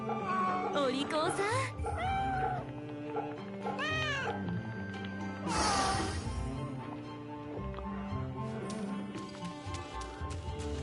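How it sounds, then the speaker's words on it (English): Cats meowing in the video game Fate/Samurai Remnant, several rising and falling meows in the first half and again near the middle, set against game music and ambient sound. "I sense cats."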